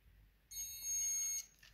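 A multimeter set to continuity gives one steady, shrill electronic beep lasting about a second while testing the brown wire of a Nespresso Magimix power cord, close and clear against a quiet room.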